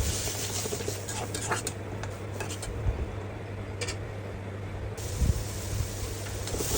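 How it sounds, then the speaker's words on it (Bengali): Cumin, turmeric and chili powder are stir-fried in a pan, with a steady sizzle, scraping of a utensil and occasional metallic clinks against the cookware, close and continuous. "এখন আমি এটাকে ভালোভাবে কষিয়ে নেব"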